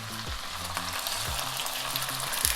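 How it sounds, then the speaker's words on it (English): Meatballs and bacon frying together in olive oil in a pan, giving a steady close sizzle with a few low knocks and scrapes as pieces are moved around. "we're going to start by just throwing these meatballs into the pan"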